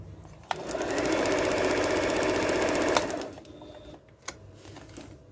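A Janome 6000 sewing machine runs a simple straight stitch, a steady rapid mechanical whir lasting about two and a half seconds, with a click at the start and stop followed by a few faint handling taps.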